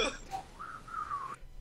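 A person whistling a brief, wavering tune during a tabletop role-playing session: a quiet, clear held tone that bends slightly, lasting about a second.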